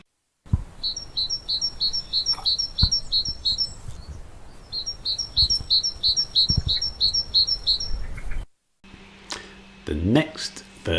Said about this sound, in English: you should be able to hear the great tit calling all through the day